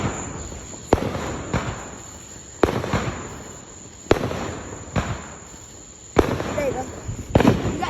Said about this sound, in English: When a big firework comes, we go.